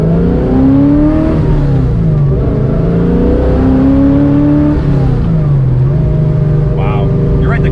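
Foxbody Mustang with a naturally aspirated Coyote engine swap, big camshafts and a stick shift, making about 530 wheel horsepower, rumbling loudly up close as it revs and accelerates through gears with rising and falling engine pitch.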